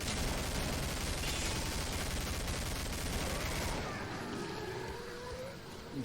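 Rapid gunfire from a zombie-shooting session in the video game Killing Floor, a dense continuous barrage of shots filling the first four seconds before thinning out, loud and close.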